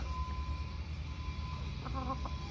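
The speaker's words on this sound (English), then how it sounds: "Already got the chicken coop." Backyard laying hens cluck softly in a short burst near the end by their garden coop, over a steady low rumble of background noise.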